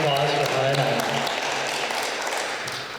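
Audience clapping at an international school's literacy celebration in northern Japan, with a voice speaking over the start before the applause carries on alone, gradually thinning and fading toward the end.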